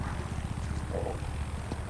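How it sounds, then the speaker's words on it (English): Helicopter flying in the video game Far Cry 6, a steady pulsing rotor chop with a droning engine hum, continuous and fairly close, filling the short stretch without speech. "Maybe this helicopter just wants to dance with me."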